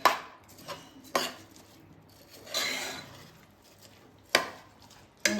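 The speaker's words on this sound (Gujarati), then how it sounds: "મિત્રો ચોખાને પણ આપણે એકવાર સારી રીતે મિક્સ કરી લઈશું બધી સામગ્રી જોડે" Soaked rice and masoor lentils being mixed with other ingredients in a pot for masoor pulao, with a few sharp clinks of a spoon against the pot between softer scraping and stirring sounds, close up and fairly quiet.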